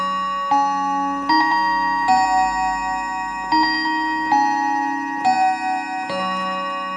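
An Art Deco Enfield mantel clock chimes the Westminster quarter-hour melody, clear bell-like notes struck one after another in a steady sequence, close and ringing.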